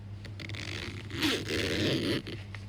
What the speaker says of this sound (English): a zipper is kind of a whiny sound